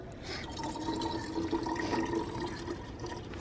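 Distilled water pours into the cooling system of a BMW E46 during a thermostat replacement, a faint, steady trickling fill with light gurgles for a few seconds.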